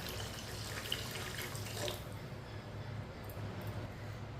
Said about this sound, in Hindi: ये मैंने 2 गिलास पानी डाला है।